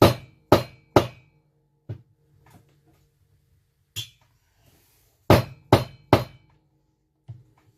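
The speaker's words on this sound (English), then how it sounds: "you give her a few good taps down, making sure she's going down evenly all the way around" Hammer tapping on a socket to seat a part during a McCulloch CP125 chainsaw rebuild, about ten sharp, close metallic knocks in uneven groups with quiet gaps and faint ringing between.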